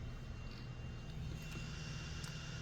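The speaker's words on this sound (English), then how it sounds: "Jet engine," A steady, faint jet engine roar sound effect played from an Anbernic RG552 handheld drones on without a break, a distant sustained whoosh with no voices over it.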